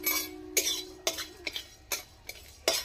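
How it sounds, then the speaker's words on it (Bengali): Whole cumin, nigella and ajwain being stirred in a pan, a spoon scraping and clinking against the metal in several short bursts, near and fairly quiet, with no voice over it. "এবার নাড়তে থাকবো যতক্ষণ না সেন্টটা একটা আসছে, ততক্ষণ নাড়তে থাকবো"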